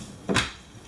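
A bathroom drawer slides open or shut with a single short, soft bump and rattle. The sound is close by, with quiet room tone on either side.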